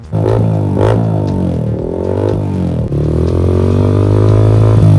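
A Yamaha MT-15 motorcycle with an SC carbon full-system exhaust revs up close and loud, its throttle blips rising and falling several times before settling into a strong, steady engine drone.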